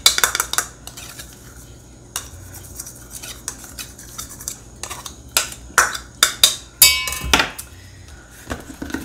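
Shoo fly pie ingredients are stirred in a bowl with a utensil, giving a run of scraping, clinking strokes that come in uneven bursts, louder toward the end, against a quiet kitchen background.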